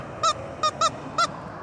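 A yellow rubber chicken toy is squeezed four times, giving short, loud, nasal honking squawks in an uneven rhythm against a quiet background.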